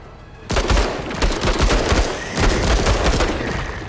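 Rapid volleys of gunfire in the tactical video game Menace crackle in loud, overlapping bursts, close and dense with booming low thumps, continuing without pause and with no talking.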